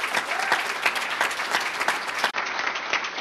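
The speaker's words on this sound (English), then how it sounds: "a round of applause for all of our high school students" An audience claps for high school students, a dense, loud burst of applause that carries on steadily without a break.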